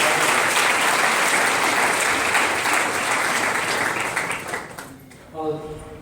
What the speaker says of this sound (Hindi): तो इसलिए सबसे पहले तो मैं आप सबको कहूँगा कि उनके लिए तालियां बजाइए।